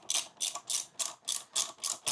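A wrench ratchets in eight quick, evenly spaced clicking bursts while loosening a front axle part on a Yamaha Tenere 700 motorcycle, close and clear with no talk.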